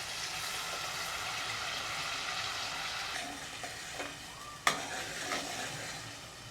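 Onion, ginger and garlic sizzle and fry in a pan as the base for a gravy. A steady hiss runs under occasional scrapes and stirs, with a sharp clink near the end, and there is no talk.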